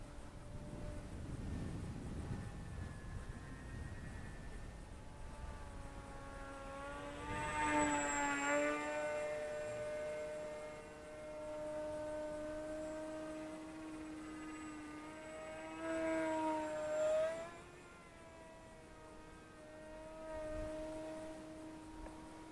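A Volantex Ranger G2 1200mm sport glider, a radio-controlled model, flies under its electric motor at about 60% throttle, giving a faint steady whine that swells twice as it passes nearer.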